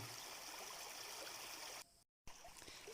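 A forest stream of strangely coloured, rice-washing-water-like water flows over dark stones, a steady close trickling and gurgling that cuts out briefly near the end.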